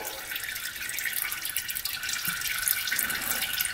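Engine oil drains from an Arctic Cat Wildcat 1000 side-by-side into a pan, making a steady, continuous hissing trickle of liquid that runs without a break.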